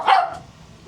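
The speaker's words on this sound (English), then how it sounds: "I can't talk over these dogs." Dogs bark at a house comedy show: one sharp, fairly loud bark burst near the start, then a low, steady background murmur.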